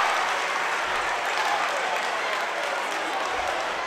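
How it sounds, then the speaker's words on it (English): A gymnasium crowd at a girls' high school basketball game cheers and applauds after a three-pointer, a dense, steady roar of clapping and shouting that holds at full strength throughout. "That 3 ball brought the crowd to its feet."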